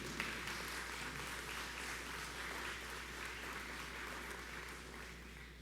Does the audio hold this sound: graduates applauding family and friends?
yes